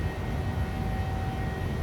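Jet engines of a PMDG 737 in Southwest Airlines livery climbing after takeoff in Microsoft Flight Simulator, a steady, dense roar with a faint whine, loud and unbroken, with no talking.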